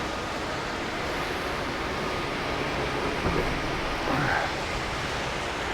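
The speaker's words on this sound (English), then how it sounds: "It has been raining for like the past hour." Rain falls steadily outside a cruise ship balcony on the 14th deck, a dense, even hiss of drops that holds at one level throughout, with no voices.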